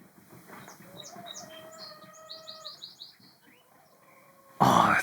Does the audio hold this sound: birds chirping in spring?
yes